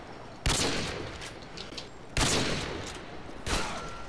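Three loud, sharp rifle shots from a sniper in a shooter video game, spaced a second or more apart, each with a trailing echo and no talk over them.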